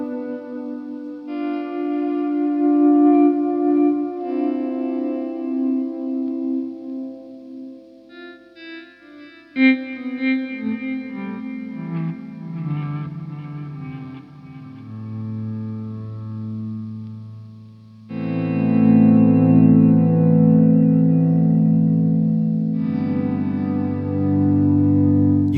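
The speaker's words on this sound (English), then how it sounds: "Set the time control high and do some volume swells for some basic ambient guitar sounds." Ambient electric guitar volume swells fed through a combined delay and reverb pedal with a long time setting: soft chords fade in slowly and ring out into smeared, echoing washes, with a louder, fuller swell near the end.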